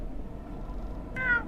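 A voice imitates a cat during a tabletop Dungeons & Dragons session, giving one short meow at the very end after a quiet, murmuring stretch.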